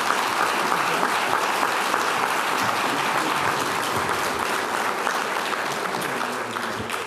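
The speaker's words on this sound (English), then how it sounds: "would you join me in a rousing applause" An audience breaks into sustained applause, many hands clapping in a thick, even roar that tapers slightly toward the end.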